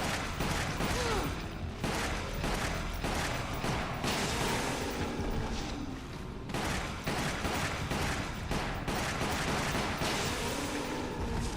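Rapid, dense volleys of gunfire, including shotgun blasts, fill the scene in Resident Evil: The Umbrella Chronicles, loud and continuous with dull booms and mechanical clatter under occasional voices.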